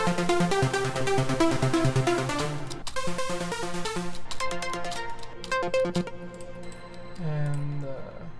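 A big three-layer saw synth lead played completely dry with all effects removed: a bright, buzzy run of stepped notes rings out loud and steady, with a brief gap before the melodic phrases resume and thin out toward the end.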